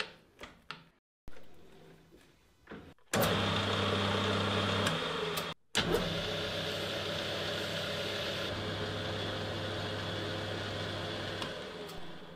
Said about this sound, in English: Now to try the gear out. I'll test cut an M12 thread.